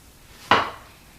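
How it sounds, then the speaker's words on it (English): A single crisp knife stroke cuts through a strawberry and taps the cutting board, one short, close thud with a quick fade and no talk. "you just want to slice them thinly sideways"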